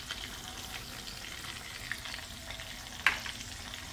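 Oyster sambal with palm sugar being stirred and fried in a pan: a soft, continuous sizzle with light scraping strokes and a sharper clink near the end.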